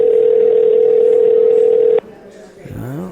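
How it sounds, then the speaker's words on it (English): A telephone tone holds steady and loud for two seconds as a phone call is placed, then cuts off and a voice starts speaking. "Let's see if we can get him on the phone."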